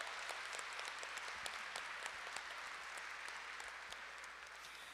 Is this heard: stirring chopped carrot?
no